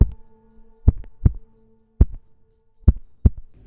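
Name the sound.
duct tape stretched quickly, recorded by good microphone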